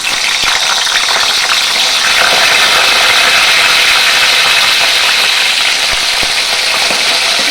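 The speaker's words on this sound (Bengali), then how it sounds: "তেল গরম হয়ে গেছে, এখন আমি বেগুনগুলো এর মধ্যে দিয়ে দেবো।" Eggplant pieces fry in hot white oil, making a continuous bright sizzle and crackle with a few small pops, close and fairly loud, with no one talking.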